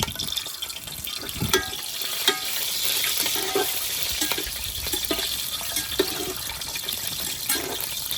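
Crushed ginger, garlic and green chilli fry in hot oil for an Ambur chicken biryani, a continuous sizzle punctuated by scattered clicks and scrapes of a spoon, with no one speaking.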